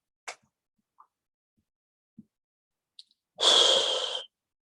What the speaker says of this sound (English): Now take a deep breath and let it out.